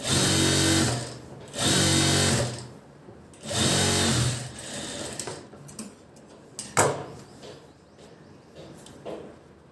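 Sewing machine stitching the lining into a princess-cut blouse, running in three loud, steady bursts of about a second each, then quieter handling clicks and small knocks with the motor stopped.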